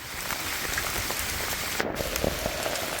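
Steady rain falls on a motorcycle trip through Kerala toward Valparai, a soft continuous patter of drops on surfaces with no voices.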